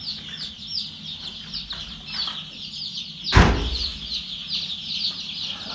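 Three-day-old chicks cheep with high, busy chatter that runs steadily through the clip. Partway through, a single sharp knock or bump sounds close by.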